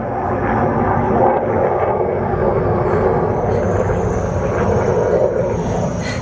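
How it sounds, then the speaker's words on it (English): Military jets fly overhead outdoors with a loud, sustained roar that swells and rumbles for several seconds, broad and steady, with no voices over it. "Those are military jets."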